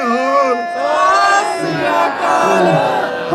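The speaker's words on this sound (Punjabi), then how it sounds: "ਇਹਨਾਂ ਦੇ ਨਾਂ ਤੇ ਵੀ ਇੱਕ ਵਾਰੀ ਜੈਕਾਰਾ ਲਾ ਦਿਓ" A crowd at a farmers' solidarity gathering in Hamburg, Germany shouts the Sikh jaikara war cry together, loud sustained massed voices rising in two or three surging waves close by.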